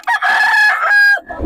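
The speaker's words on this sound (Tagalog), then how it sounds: "Anong lahi ito, Boss? Gilmore." Gilmore-breed gamecock rooster crowing once, close and loud, a long sustained harmonic call at a poultry sellers' market, followed by a brief low rustle.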